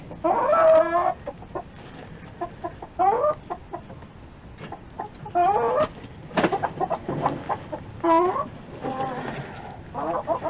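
Several hens cluck and murmur nearby inside a coop being closed up for the night, in repeated bursts, with soft rustling between their calls.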